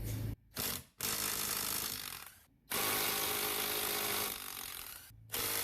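Power tool, probably an impact wrench, undoing bolts on a Toyota front differential, running in several loud sustained bursts separated by brief pauses.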